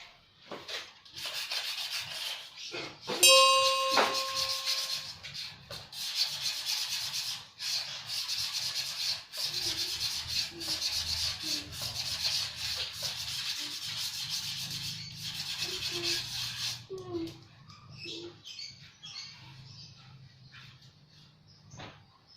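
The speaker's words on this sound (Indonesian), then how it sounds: "ini kita amplas dalaman mangkokannya, bagian tromolnya, untuk menghilangkan kerak-keraknya" Sandpaper rubs the inside of a Honda Vario 125 scooter's rear brake drum to remove crusted deposits, giving continuous close scratchy strokes with short pauses and a brief metallic ring near the start.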